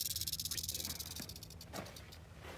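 A rattlesnake hisses up close, a steady breathy hiss laced with rapid rattling pulses that are strongest at the start and then ease into a continuous hiss.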